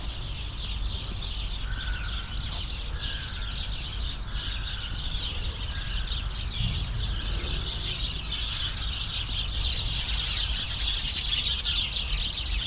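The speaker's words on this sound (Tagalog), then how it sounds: "Ang daming kalapati dito mga idol oh." A flock of pigeons outdoors in falling snow in Poland, with soft calls and occasional chirps over a steady hiss of wind and ambient noise, fairly distant and continuous.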